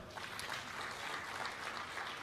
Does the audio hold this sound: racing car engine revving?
no